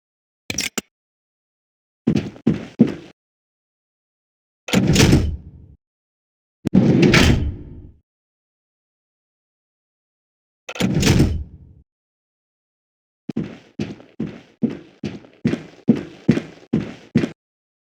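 Doors sliding and thudding open in the Fallout Tactics: Brotherhood of Steel training area, a series of loud separate mechanical bursts with silence between, then a quick run of short rhythmic clanks at the end.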